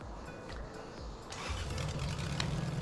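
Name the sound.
Lexus 1UZFE V8 engine starting in Jeep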